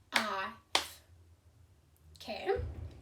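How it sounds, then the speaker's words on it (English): Hand claps marking the syllables of a word in a children's language lesson, two sharp claps close together at the start with a child's and an adult's voices speaking around them. "We're going to clap it together."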